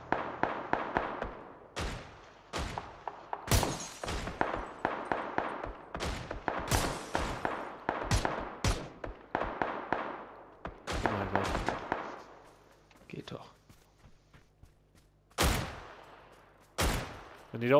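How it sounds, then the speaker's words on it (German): Rapid gunfire from a PUBG: Battlegrounds match, dense bursts and single shots cracking in quick succession over about eighteen seconds, loud and close, with a few short pauses between volleys. "Von da kommen Schüsse"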